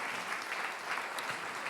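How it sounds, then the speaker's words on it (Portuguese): A church congregation applauds at the close of a worship service, a steady, fairly soft patter of clapping heard from a distance with no talk over it. "Você pode aplaudir ao Senhor."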